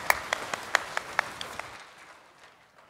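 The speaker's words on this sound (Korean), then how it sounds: "주의 영광의 박수 올려드리겠습니다" A church congregation at a Sunday worship service claps: about eight firm, rhythmic claps in quick succession from a group, then the applause stops and the room falls quiet.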